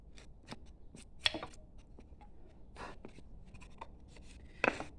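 A hand tool slices wood during carving, giving quiet, sparse scraping and cutting strokes with a few sharper snicks, close and faint.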